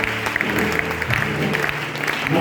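Church congregation applauding during a sermon, a dense, continuous wash of clapping from many hands that stays loud and steady throughout, with some voices mixed in.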